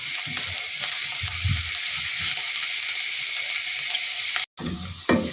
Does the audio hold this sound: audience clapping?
no